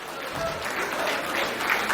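Steady crowd clapping at a Hindi comedy poetry recital, moderately loud and sustained, a continuous wash of hands with no talking over it.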